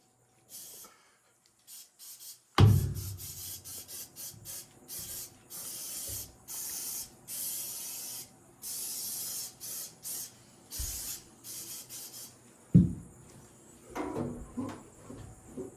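Lysol disinfectant spray can releasing repeated hissing bursts of varying length, some short and some sustained, with a louder thump at the start and another near the end, indoors with no talk.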